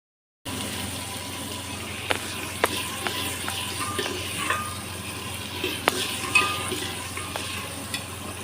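Onions and potatoes fry in a pot over a clay stove, giving a steady low sizzle with occasional sharp clicks and scrapes of stirring, moderately near, with no talk.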